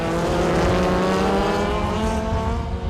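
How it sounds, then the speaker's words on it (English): Racing cars scream down the far back straight at Buddha International Circuit during a national championship race, a loud sustained high-revving engine roar with rising harmonic pitch that fades slightly at the end. "this is where the cars can pack in maximum speed as they come out of C4, head down the straight into C5"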